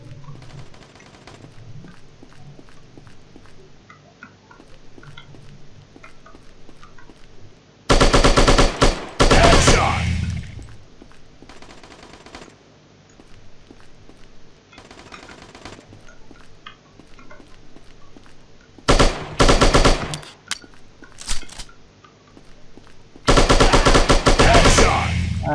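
Automatic gunfire in the video game Striker chapter 2: several loud, rapid bursts of machine-gun fire separated by quieter stretches of faint game ambience, with a voice talking quietly at times.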